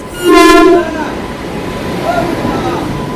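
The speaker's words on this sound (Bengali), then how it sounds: "এই আমাদের ট্রেন ঢুকলো ব্ল্যাক ডায়মন্ড এক্সপ্রেস" A loud train horn blares briefly, then the Black Diamond Express rumbles steadily as it pulls in alongside the platform.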